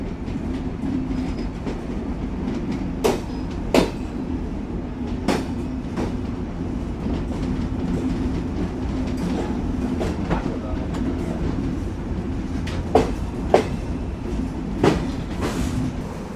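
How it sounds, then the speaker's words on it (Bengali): The Benapole Express, a Bangladesh Railway intercity train between Dhaka and Benapole, rumbles steadily along the rails at dawn, with a constant low drone broken by sharp periodic wheel clacks and thumps, and no talk. "বেনাপোল এক্সপ্রেস বাংলাদেশ রেলওয়ে কর্তৃক পরিচালিত রাজধানী ঢাকা ও বেনাপোলের ভিতর চলাচলকারী একটি আন্তনগর ট্রেন"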